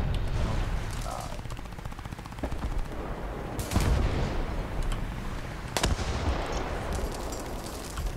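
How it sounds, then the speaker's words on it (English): Gunfire in a War Thunder Korean War-era arcade battle, steady rattling automatic shots with a couple of sharper loud cracks, continuous and fairly close throughout. "And then they shoot at me."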